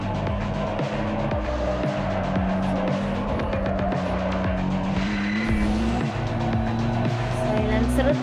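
A GT car in the CarX Street mobile racing game roars continuously with a revving engine note, layered with repeated tire squeals and skids through turns, loud and unbroken throughout.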